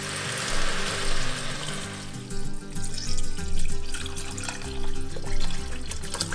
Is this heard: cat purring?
no